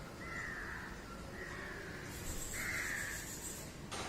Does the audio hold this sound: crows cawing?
yes